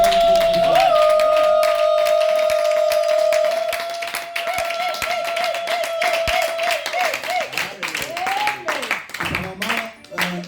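Congregation at a church service claps in a steady rhythm, sharp hand claps loud and close, with a sustained held vocal tone over the first half and voices mingling beneath the clapping.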